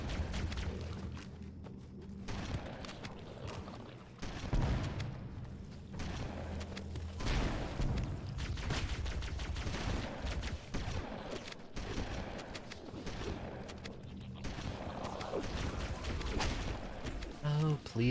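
Repeated shotgun blasts in Halo: Combat Evolved aboard a cruiser, heavy booming shots recurring through dense combat noise and music, with talking over much of it.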